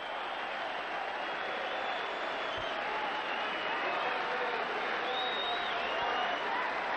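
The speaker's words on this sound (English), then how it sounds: "The crowd really yelled themselves hoarse" A huge racecourse crowd at Moonee Valley roars and applauds the champion horse Might and Power returning after the race, a dense, sustained wall of cheering and clapping that swells slightly toward the end.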